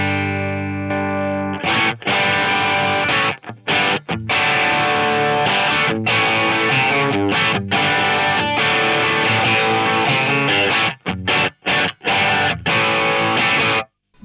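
A Stratocaster bridge pickup runs through a Roland GP-8 with distortion and the mids boosted, giving a loud, thick, humbucker-like tone as it plays sustained chords and riffs, broken by short silent gaps between phrases.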